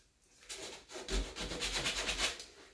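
Hand sanding of raised paint on a painted wooden surface with 220 grit sandpaper, worked along the grain; a run of close, steady rubbing strokes with a soft scratchy texture, heard alone.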